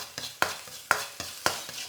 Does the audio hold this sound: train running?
no